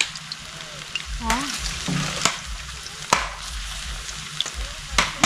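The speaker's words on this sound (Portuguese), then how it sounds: "Fritar a bananinha, o molho tá bem quente hoje." Bananas frying in a small pan over a riverside campfire, a steady oily sizzle with stirring clatters and scrapes, close by, with brief talk.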